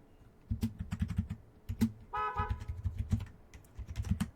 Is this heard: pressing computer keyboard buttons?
yes